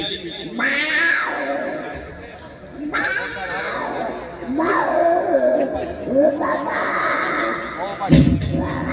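A man imitates a cat with a series of rising and falling meows and yowls, several drawn-out calls in a row, close and loud, ending in a harsher burst.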